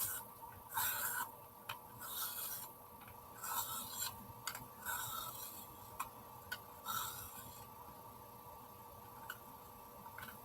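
A colouring pencil is sharpened in a series of close, dry rasping turns, bursts of grinding separated by brief pauses, quiet and without talking.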